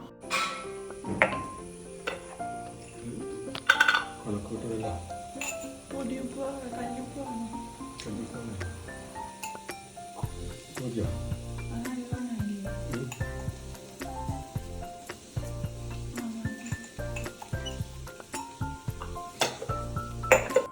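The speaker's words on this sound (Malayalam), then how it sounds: "അപ്പോൾ ഇതൊക്കെ നന്നായി ഇളക്കുക" Green peas curry is stirred in a pot, giving soft sizzling and scattered utensil clinks against the metal, while someone talks throughout.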